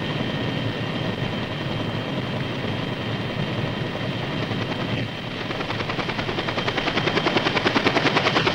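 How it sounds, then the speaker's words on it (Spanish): Helicopters carrying personnel and equipment arrive at a camp, their rotors a loud, steady droning thump that grows more distinctly pulsed and slightly louder toward the end. "Después de llegados los helicópteros que transportan personal y equipo"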